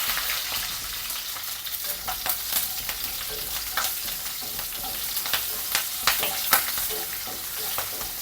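Split green chillies sizzle in a curry pan of okra and prawn heads, a close, steady frying crackle with scattered sharp pops and spatters and no voices.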